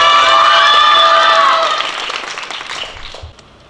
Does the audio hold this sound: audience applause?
yes